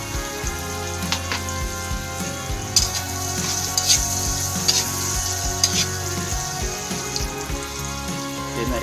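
Onion and garlic sautéing in hot oil in a pan for fried rice, a loud continuous sizzle with occasional sharper crackles and spatter pops.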